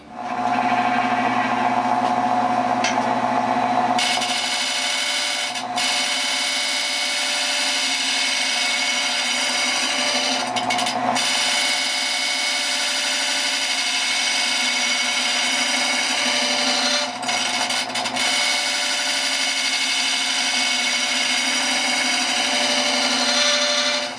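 A woodturning lathe spins steadily while a tool shapes the outside of a wooden bowl, giving a continuous loud whirring hum with brief dips as the cut changes.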